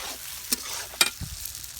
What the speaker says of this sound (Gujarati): હવે એને હલાવી નાખવાના છે.